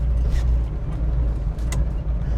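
A 1969 Ford Mustang Mach 1 with a 390 big-block V8 idles while still warming up, a deep steady rumble heard up close with a few faint higher clicks over it and no voices.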